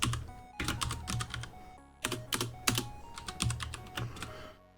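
Rapid, close typing on a computer keyboard comes in dense bursts of clattering keystrokes with brief pauses between runs and no speech over it.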